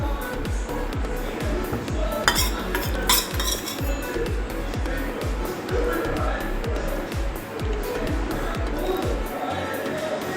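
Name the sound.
spoon spreading pizza sauce over tawa pizza base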